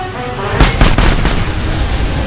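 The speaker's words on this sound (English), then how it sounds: "Let's just sit back and watch an explosion." Explosion in a computer video game, a loud rumbling blast with a few sharp bursts in quick succession, then a sustained roaring tail.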